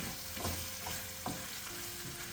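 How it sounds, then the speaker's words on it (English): Onions stirred into goat meat asun in a pan produce a soft, continuous frying hiss with a few faint scraping strokes, steady and close with no voices. "top in some onions and you stir"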